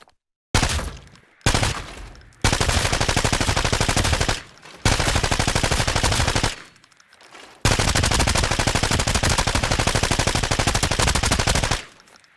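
A T79 rifle fires in Arena Breakout: Infinite in several long, loud bursts of rapid automatic gunfire. The bursts are separated by brief silent gaps and no voice is heard.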